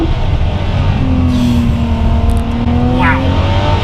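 A Ferrari 599 GTO in race mode, heard from close up, roars loudly and without a break as the revs blip and fall through a downshift in second gear.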